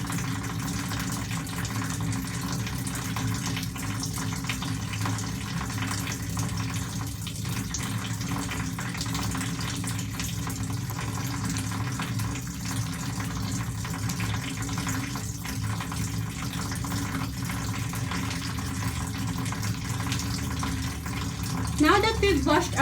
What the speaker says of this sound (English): So rinsing under running water helps in mechanically